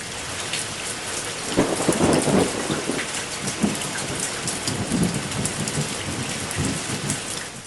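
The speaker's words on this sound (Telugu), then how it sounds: "ఉరుములు మెరుపులతో కూడిన వర్షాలు పడుతున్నాయి" A heavy downpour in Telangana roars steadily while deep thunder rumbles roll through several times, loud and close.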